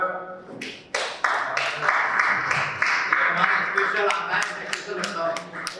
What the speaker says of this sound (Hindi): स्वागत करेंगे जोर जोर से तालियां